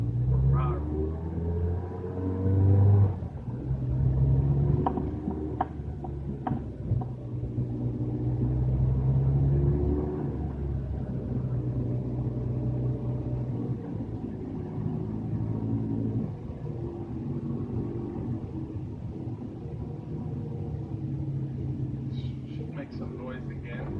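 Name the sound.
Ferrari 360 Challenge Stradale engine rumbling in first gear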